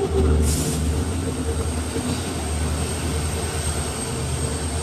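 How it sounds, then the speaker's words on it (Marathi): The 11003 Dadar–Sawantwadi Tutari Express, an electric-hauled train, rolls into a station with a steady, loud rumble and rail noise, and no voices are heard. "तर एक्सप्रेस आलेली आहे"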